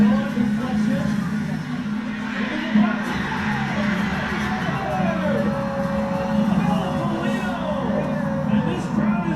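The crowd at a BYU soccer match roars with sustained cheering and scattered whoops, a broad, steady wash of voices with a commentator talking over it.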